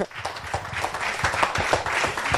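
An audience at a children's reading competition final applauds steadily, a dense wash of many hands clapping that holds for a couple of seconds at moderate loudness.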